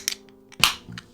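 A can of Pepsi cracks open with a sharp snap and a brief fizzing hiss, preceded by a small click, all close and fairly quiet, with no talking.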